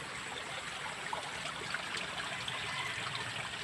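A steady, moderate rush of water flowing from a strong mountain spring, continuous and close with no pauses.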